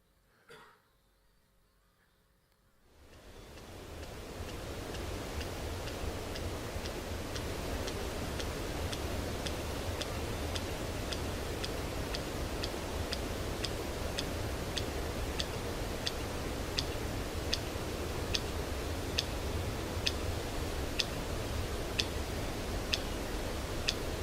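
Sperm whale echolocation clicks recorded underwater: after a quiet start, a long, regular train of sharp clicks ticks steadily over a constant ocean hiss.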